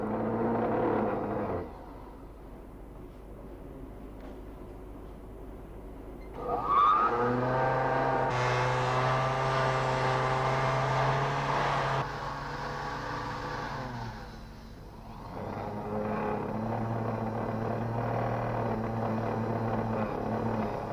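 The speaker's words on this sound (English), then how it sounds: "Outside the dust-proof room, Pat Collinson takes the hardened cabochons and grinds any rough edges or lumps off them." Hardened cabochons have their rough edges and lumps ground off on a grinding machine outside a dust-proof room, a steady loud whirring drone that rises into a harsher grinding tone midway and then eases back.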